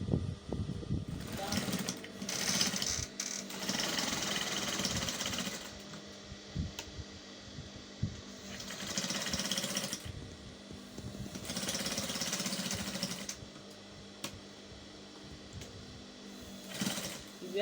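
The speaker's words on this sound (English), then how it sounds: "If you have a zigzag machine, that's the tabletop kind, or any zigzag machine, you can use it for this." A tabletop zigzag sewing machine stitches a pleated border onto a patch pocket in several bursts of fast, even whirring, separated by pauses, while a person talks between and over the runs.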